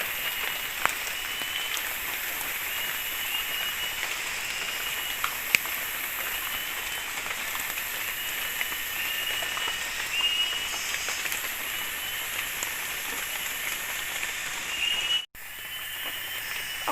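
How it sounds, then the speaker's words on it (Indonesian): Heavy rain pours onto a tree house, a dense, steady hiss of drops on the roof and surfaces lasting throughout, with a few sharper taps standing out and a brief break near the end. "Hujan guys, hujan."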